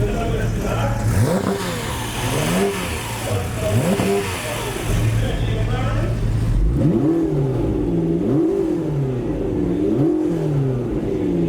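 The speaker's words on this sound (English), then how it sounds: "getting all the cars to rev and the crowds to cheer" Supercars, including a Ford GT40 with a lumpy V8, revving hard at a show rev-off, loud repeated rising and falling engine blips from several cars overlapping, with crowd noise and a voice under them.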